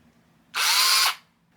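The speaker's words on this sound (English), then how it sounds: "power tool time" A power drill runs in one loud, steady burst of about half a second during a craft-space build, then stops, with no talking.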